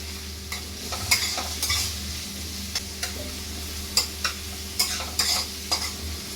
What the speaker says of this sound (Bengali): পেঁয়াজটা একটু লাল লাল হলে তারপরে বাদ বাকি মশলা দেবো